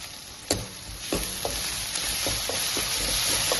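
Onions sauté in a hot pan for chicken gravy, crackling with a steady sizzle punctuated by a few sharp scrapes and taps of stirring.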